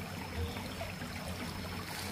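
A stream flows beside a resort garden with a steady, close rushing and burbling of water, constant in level and unbroken by voices.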